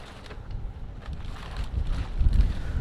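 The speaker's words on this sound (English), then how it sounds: "it's quite windy here. Hopefully the camera doesn't fall off" Low, buffeting wind rumble on the microphone, gusting steadily and growing stronger toward the end, with no voices.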